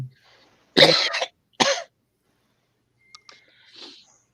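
A couple of harsh coughs close to the microphone, followed by quiet breathy sounds and a faint throat noise.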